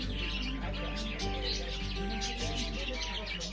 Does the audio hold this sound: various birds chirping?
yes